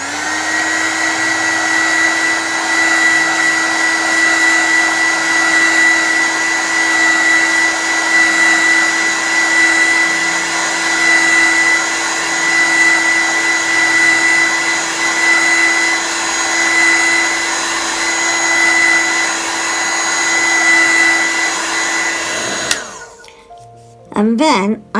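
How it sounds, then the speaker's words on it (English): A heat gun blows hot air over Two Rivers watercolour paper, a steady loud whooshing roar with a constant motor whine that runs unbroken for about 23 seconds, then cuts off abruptly, followed by a few faint handling sounds. "Okay, got the heat gun, here we go."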